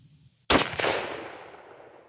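A single rifle shot cracks out while zeroing for deer season, one sharp, loud, close blast followed by a long, fading echo over an open range.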